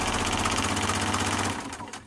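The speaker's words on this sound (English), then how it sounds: "so we're going to go straight stitch, do a little sewing here." A sewing machine in for service runs a straight stitch with a steady, loud mechanical whir and rapid rhythmic chatter, slowing and fading in the final half second.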